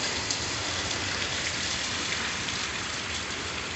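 Heavy monsoon downpour, five inches of rain falling, a dense, unbroken hiss of rain on surfaces, close and steady with no voices.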